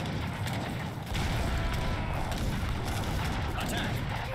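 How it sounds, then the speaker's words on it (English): Cannon fire from an Age of Empires III battle during the American Revolution, a dense continuous rumble of booms and gunfire with someone talking over it. "Oh, that's where their cannons are. Alright. Cannons, hit them."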